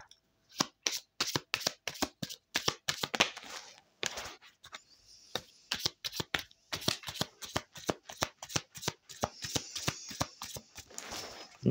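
Oracle cards shuffled by hand in a quick series of crisp riffling bursts, close and alone, with brief pauses between rounds.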